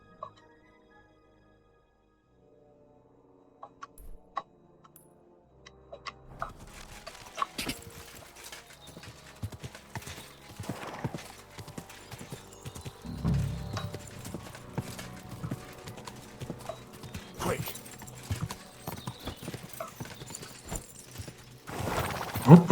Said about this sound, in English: Μαύρο άλογο.